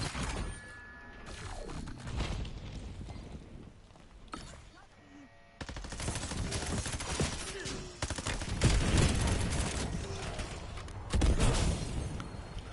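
Rapid bursts of video game gunfire crackle through the scene, loud and dense, with a few pauses between volleys; a voice talks over parts of it.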